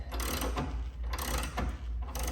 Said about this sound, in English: See, as I lower the front jack now